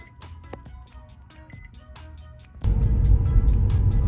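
Nissan 350z with frame damage being driven, engine and road noise rising sharply partway through into a loud steady drone, with faint ticking earlier.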